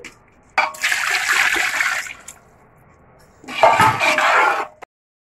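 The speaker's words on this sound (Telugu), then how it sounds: "వాటర్ పోసుకోవడం జరిగింది." Water pours into a large pot of rice for biryani in two separate bursts, each a loud rushing splash lasting over a second, with a short quiet gap between them.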